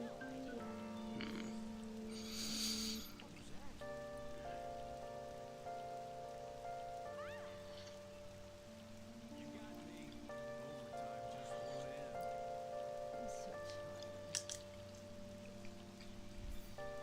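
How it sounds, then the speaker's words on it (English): Steady rain falls in Persona 5 Royal, a soft continuous patter with sustained music playing over it throughout. "it's finally raining"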